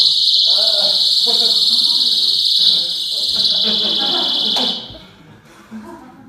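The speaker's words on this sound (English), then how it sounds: "Is that your rape alarm?" A shrill, piercing personal rape alarm blares continuously, then cuts off abruptly near the end, with people talking underneath it.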